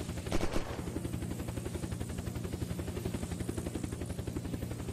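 Rapid automatic gunfire in the video game Unturned, a continuous rattling burst at an even rhythm that runs for several seconds, fairly quiet and with no talking.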